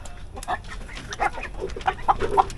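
Short, chesty clucks from Aseel chickens come in an irregular series, fairly close, over a low rumbling background.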